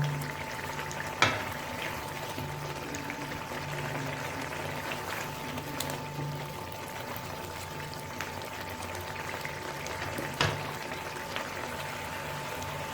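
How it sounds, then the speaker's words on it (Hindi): Garlic and onion frying in ghee in a pan, a steady low sizzle and bubbling with occasional stirring clinks, continuous and moderately quiet with no talking. "अब इनको हमने उस वक्त तक फ्राई करते रहना है जब तक इनका कच्चापन ख़त्म ना हो जाए।"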